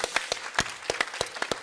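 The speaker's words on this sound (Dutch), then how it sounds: "Dus geeft u haar een hartelijk applaus." Audience applause at a livestreamed event on urban education in Amsterdam, a steady patter of many hands clapping at moderate volume, continuous and even throughout with no voices over it.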